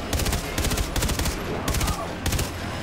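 Gunfire in the video game Far Cry 3 Blood Dragon comes as several quick rattling bursts of automatic shots, spaced by short gaps, fairly close and moderately loud.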